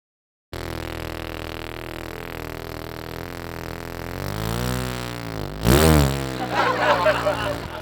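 A motorcycle engine runs steadily, then revs up and pulls away as riders set off for a New Year water-splashing festival, the engine note rising and swelling loud near the end.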